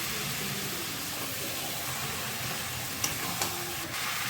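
Marinated meat fries with ground spices in a pan, a steady close sizzling hiss with a couple of faint clicks near the end.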